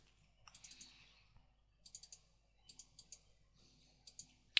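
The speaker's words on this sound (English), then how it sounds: "so let's click the button there" A computer mouse clicks an on-screen button during software setup. Close, crisp clicks come in small clusters with short pauses between them.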